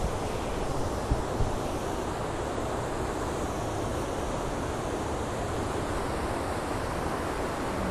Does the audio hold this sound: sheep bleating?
no